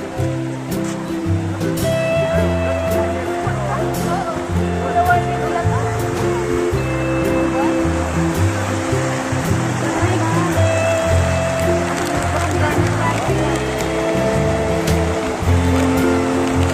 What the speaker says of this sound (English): Ito ang river na pinagmamalak.